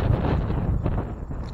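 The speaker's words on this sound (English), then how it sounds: "I'll tell you what, it's windy now." Wind gusts outdoors along a walkway lined with rock crosses at Branson Cross in Branson, Missouri, a steady low rumbling buffet across the microphone that stays loud and close for the whole stretch, with no talk.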